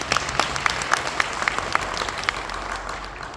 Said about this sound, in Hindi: एक जोरदार ताली मोदी केयर के लिए।